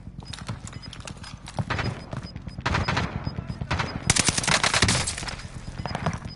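Rapid bursts of gunfire and impacts in a first-person shooter game on a new map, dense and loud throughout, with hoofbeat-like clatter mixed into the game sounds.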